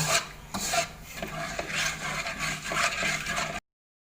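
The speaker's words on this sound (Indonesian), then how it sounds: "Kita aduk dulu sampai udang ini merata ya." A shrimp and rice mixture is stirred in a pot before cooking, giving close rasping scrapes in an irregular rhythm that stop abruptly.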